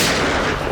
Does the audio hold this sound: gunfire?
yes